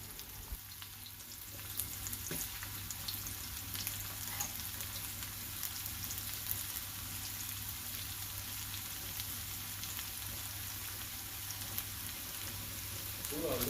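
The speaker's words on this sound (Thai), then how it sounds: "พอน้ำมันร้อนหน่อยๆครับ ก็ใส่กระเทียมครับ" Thai garlic sizzling and crackling as it fries in hot oil in a pan. A steady, fairly quiet hiss continues throughout with small pops, and there is no talking.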